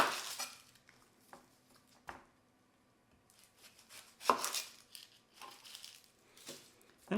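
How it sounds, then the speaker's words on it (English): A knife chops through a large sweet onion on a cutting board, giving a string of irregular, fairly quiet taps and crisp cuts with short pauses between them. No one speaks. "Now let's cut up our onion. This is a large sweet onion here."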